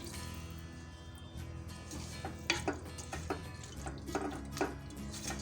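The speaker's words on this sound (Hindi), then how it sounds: "इसके अंदर मैं 1 गिलास पानी डाल रही हूँ।" A glass of water poured into flat beans cooking in a pan, a soft gurgling splash with faint sizzling and scattered drips and clinks, fairly quiet and close.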